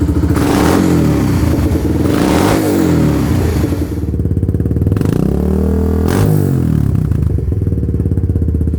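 A Kawasaki Lakota ATV quad engine revs loudly in repeated bursts, rising and falling in pitch as it accelerates, close and rough-sounding.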